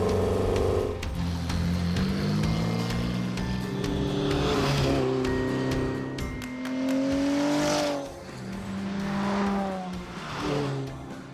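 A loud Alfa Romeo 105 Giulia GT Veloce 1600 race car engine revs up and down repeatedly, pitch climbing and dropping as it shifts through gears, continuous and close.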